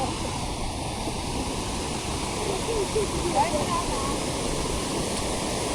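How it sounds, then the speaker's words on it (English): A waterfall in Hafren Forest pours in the rain, giving a steady, dense rushing roar that holds constant and fairly loud throughout. "We reached the waterfall."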